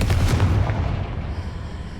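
Confringo blasting spell in Hogwarts Legacy, a deep booming explosion with a rumbling low-end burst that decays into a fading roar over about two seconds.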